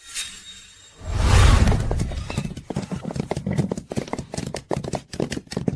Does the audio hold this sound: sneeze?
no